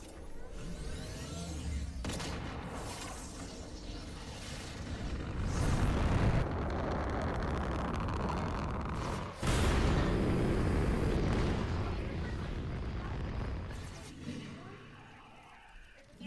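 Rocket launch in the video game Fortnite, a loud sustained roaring rumble with explosive bursts that swells mid-clip, breaks sharply, then surges again before fading, with voices faintly underneath.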